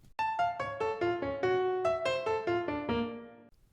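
A piano plays the right-hand arpeggio progression from Bartok's Bagatelle No. 2, about a dozen quick, evenly spaced notes falling and rising in clear bright tones, heard alone and ringing out at the end.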